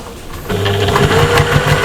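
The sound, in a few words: sewing machine stitching multiple layers of patchwork bag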